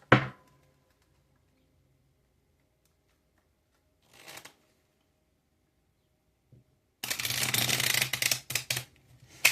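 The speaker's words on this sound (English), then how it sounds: "This card was at the bottom of the deck before I started shuffling" A deck of tarot cards is shuffled close by, a brief riffle at the start, a short soft flutter mid-way, then a sustained loud riffling shuffle near the end after quiet pauses.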